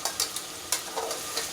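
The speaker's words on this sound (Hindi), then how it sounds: "ये तेज़ वाली लाल मिर्च डाल के इसे मैं फास्ट गैस पे ही भूनूंगी" Ground spices and hot red chili fry in a pan over a high gas flame, a continuous sizzle broken by a few scraping stirs of a spoon, close and with no voices.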